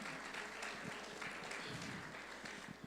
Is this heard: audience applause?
yes